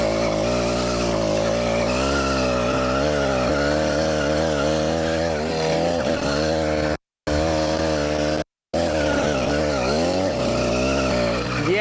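A motorized mountain bike fitted with a motorcycle engine fires up and revs hard, its loud, raspy buzz rising and falling as it is ridden, with brief cutouts near the end and no talking.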